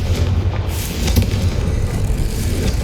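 A Confringo fire spell goes off in Hogwarts Legacy as a loud, rumbling blast that sustains heavy low booms across the moment, with no voices.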